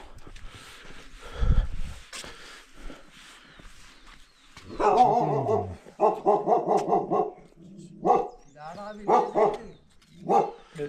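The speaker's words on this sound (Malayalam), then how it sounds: "അല്ല അവിടെ ഹെവി നായുണ്ട്" A dog barks repeatedly in short, loud bursts nearby in Ghandruk village, Nepal, with people talking before and between the barks.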